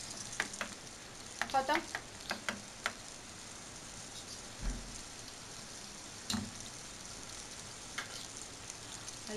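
Onions frying in a pan for a Pakistani beef kofta curry, a steady soft sizzle with a few sharp stirring scrapes and clicks near the start and scattered knocks later, close and fairly quiet, no talk.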